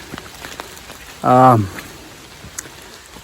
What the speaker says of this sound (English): It is day 127 and it is raining.